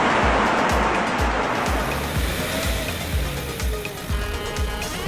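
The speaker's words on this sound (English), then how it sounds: "The off-road vehicle hurtled across the water at 80 kilometers per hour, its engine roaring loudly." Amphibious off-road vehicle speeding across water at high speed, a loud steady engine roar over rhythmic thumping and splashing as the hull slaps the surface.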